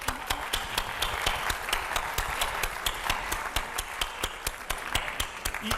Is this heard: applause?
yes